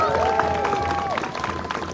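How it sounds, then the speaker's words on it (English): Festival audience at the Jorvik Viking Festival 2024 costume contest, heard as a dense, sustained crowd noise of clapping and cheering with a whistle-like tone rising and falling early on, steady and fairly loud throughout. "Let us have a big round of applause for all three of them first"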